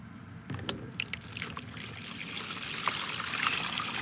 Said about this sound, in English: So get my handy dandy pan and fill it with canal water